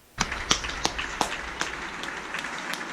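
An elderly woman claps at her window on a rainy day, a series of sharp, spaced claps heard at a distance over steady rain-like background noise.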